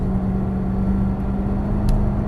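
A C7 Corvette Stingray's engine drones loud and steady under throttle, with a low, constant hum and no voices over it.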